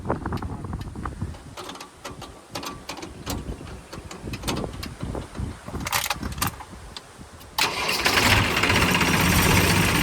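A new tractor's engine cranks with uneven clattering bursts before catching and settling into a loud, steady idle rumble at close range. No speech is heard.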